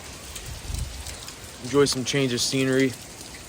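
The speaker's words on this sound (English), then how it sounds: "As you can see, it's raining" Rain falling at a beach on an overcast day, a steady soft hiss of drops that runs beneath a person talking throughout.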